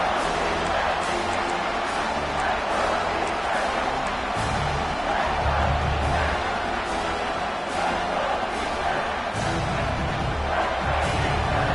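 A football stadium crowd roars steadily through a third-and-goal defensive stand, a dense, continuous wash of cheering with occasional louder swells and thuds, with a commentator's voice faintly underneath.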